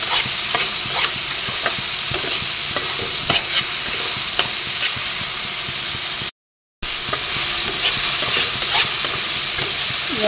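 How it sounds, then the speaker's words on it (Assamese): Soybean chunks fry in a hot pan with a continuous loud sizzle, while repeated stirring strokes scrape through the pieces and one brief silent gap falls near the end; no one speaks. "2 মিনিটমান সময় মই ভাজি ল'ম"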